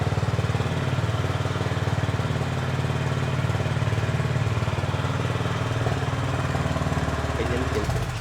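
Honda H'ness 350 motorcycle in ideal condition, engine idling with a steady, deep thumping exhaust note that stays even and close throughout.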